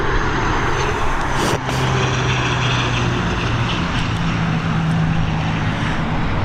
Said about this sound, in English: it's ATR 72-600 coming in from Aberdeen